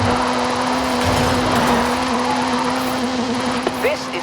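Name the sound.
Hooligan Gymkhana 10 Ford Focus engine, Forza Horizon 5 video game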